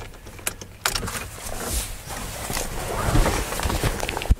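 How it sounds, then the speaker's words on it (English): A key clicks and jangles in the ignition of a Skoda Fabia whose battery was recently recharged, with a sharp click followed by faint rustling and small metallic taps inside the car. "Key in the ignition."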